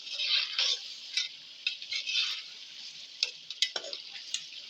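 Chicken coated in masala roasting in a pan, with a soft steady sizzle under scattered scrapes and clicks of stirring, moderately close and fairly quiet.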